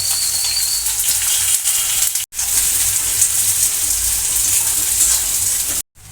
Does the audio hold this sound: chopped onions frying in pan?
yes